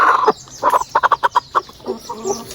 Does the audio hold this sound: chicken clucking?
yes